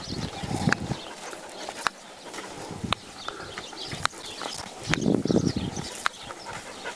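A horse's hooves thud and clop on an arena surface while it runs a reining pattern. The irregular, moderately loud footfalls come with scattered sharp knocks and quiet outdoor background, with no talk.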